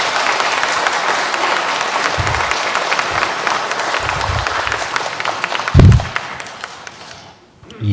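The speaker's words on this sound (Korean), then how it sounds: "뜨거운 박수 부탁드리겠습니다" Congregation in a Catholic church applauding a priest at his feast-day celebration, a full, loud round of clapping from many people, with a few low thumps, fading out toward the end.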